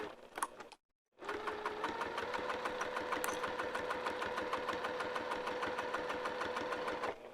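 A sewing machine stitches a vinyl zipper wristlet at a regular stitch length, whirring in a fast, even rhythm after a short pause, close and steady throughout.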